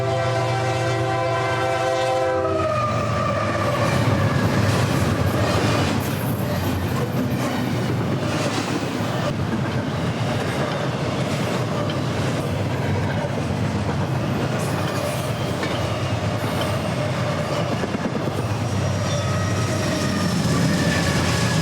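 An eastbound freight Z train runs along a river through the Driftless area hills, opening with a sustained horn blast before a long, loud steady rumble and clatter of passing cars.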